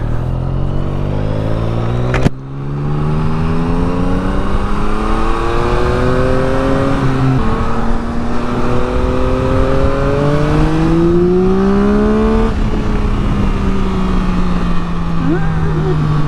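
A Yamaha MT-09 motorcycle with a freshly reflashed ECU accelerates hard up through the gears. Loud rising engine tones with gear shifts carry on and off, and wind rushes past on the ride.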